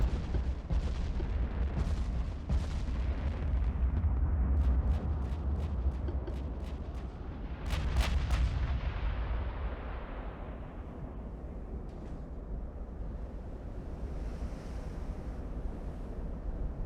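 In a naval battle game, 18-inch guns fire in heavy booming salvos over a constant ocean-and-wind roar, with several sharp cracks early on and a cluster near the middle before the noise settles into rushing surf.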